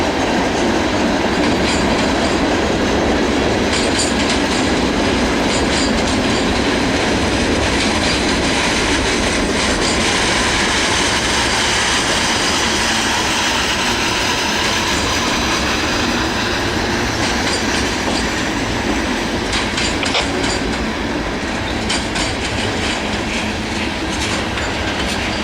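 Norfolk Southern 165 manifest freight train rolling past close by, a steady loud roar of railcars with clickety-clack wheel beats and faint wheel squeal throughout, no voices.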